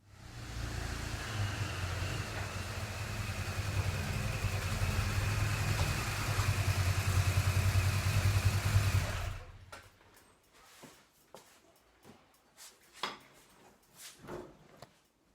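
A BMW R1200GS boxer engine idles steadily while warming up in a garage, loud and close for about nine seconds before cutting off, followed by scattered light clicks and clatter.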